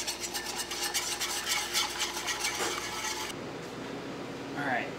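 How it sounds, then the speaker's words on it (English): Espagnole sauce is whisked in a pan for Salisbury steak, a quick, regular, close whisking rattle and scrape for about three seconds that then stops, leaving a quieter simmering background. "make sure you're whisking that pretty consistently here, and we'll wait for the sauce to thicken up"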